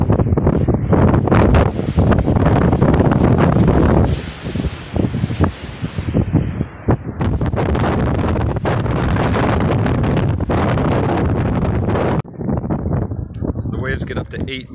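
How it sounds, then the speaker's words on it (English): Strong wind on a high spot in Portugal blasts the microphone in loud, gusting roars, briefly easing before surging again, with a voice talking over it. "It's crazy windy up here."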